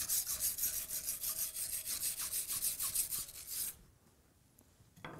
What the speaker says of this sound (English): you want to at least hit it with a wire brush, a stainless wire brush, to clean off the area you're welding